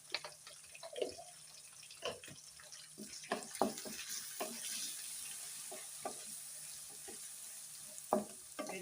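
Chopped onions with salt and turmeric frying in a pan for a Telugu curry, a soft steady sizzle under intermittent scraping and stirring clinks, fairly quiet throughout.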